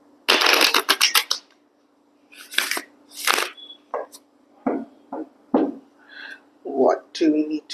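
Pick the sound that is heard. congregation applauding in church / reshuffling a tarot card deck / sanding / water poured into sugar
reshuffling a tarot card deck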